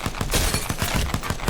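Rapid weapon fire in Apex Legends, a fast stream of dense, crackling shots repeating at a quick, even rhythm, loud and close with no talk over it.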